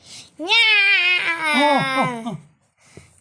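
A cat lets out a long, loud, wavering meow followed by a second drawn-out yowl, then a brief faint sound after a pause.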